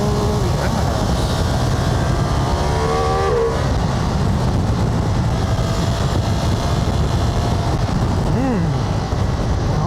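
A Ducati Multistrada V4 RS motorcycle engine revs hard at high RPM, a loud, continuous roar with rising tones and heavy wind rush, while a rider talks over it.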